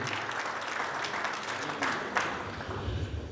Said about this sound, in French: Si on peut applaudir encore pour ce monsieur capable et différent